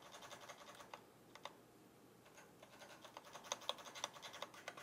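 Someone types on an ErgoDox EZ split ergonomic keyboard, making quiet, close key clicks. The taps come in irregular bursts and single presses over faint background hiss, with no talking.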